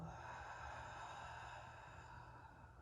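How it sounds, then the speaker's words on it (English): A long, steady exhale pushed out through an open mouth during a strength and stability flow workout, a close, airy breath lasting a few seconds and fading slightly at the end. "Open the mouth, completely exhale."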